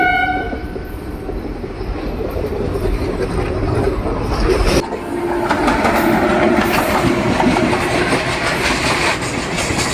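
A Bhubaneswar–Chennai Central weekly special train pulls into a station platform, with a steady loud rumble of wheels and carriages, a horn-like tone at the start and rising rattling clatter as it arrives; no talking.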